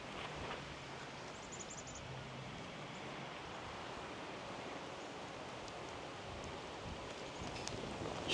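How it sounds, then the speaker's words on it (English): Wind blowing outdoors at a daytime Halloween haunt walkthrough, a steady broad rushing hiss that holds evenly throughout, with faint rustling and no voices. "the wind's blowing them around a bit"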